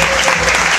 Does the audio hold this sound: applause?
yes